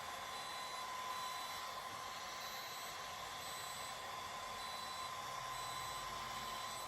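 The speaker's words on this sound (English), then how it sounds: "you'll hear it beep and make like this vibration noise, but it's not vibrating" DermRays Revive facial device running steadily while firing, a continuous electronic buzz with a thin high tone and faint repeated beeps, close and even throughout with no talking.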